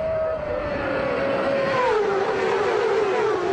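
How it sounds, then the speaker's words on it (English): On-board racing motorcycle engine at a 2005 road race, a loud sustained high-pitched whine with shifting pitch as it holds speed, no talk over it. "Wow, doesn't Locker's bike sound sweet?"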